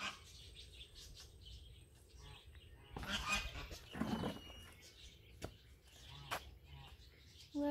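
A peacock at a zoo in Quiché, Guatemala gives loud honking calls, with one strong burst midway and shorter cries around it, over steady outdoor background noise while people talk nearby.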